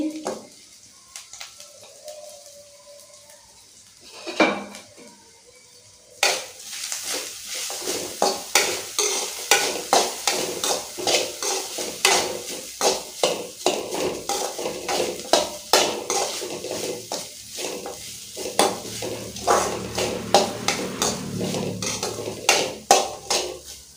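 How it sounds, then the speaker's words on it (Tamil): Grated coconut with garlic and tamarind roasts in a pan for a mint chutney. After a quiet start, a spoon scrapes and stirs in quick, uneven strokes over a soft sizzle that continues to the end. "தேங்காயை ரொம்ப வறுத்துடாதீங்க. ஈரப்பதம் போகிற அளவுக்கு மட்டும் வறுத்து எடுத்துக்கோங்க."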